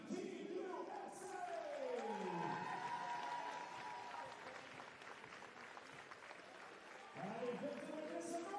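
Spectators at the FIBA 3x3 Women's Series finals in Quebec City applaud the winning Team USA, steady clapping filling the arena under a loud announcer's voice and music swells.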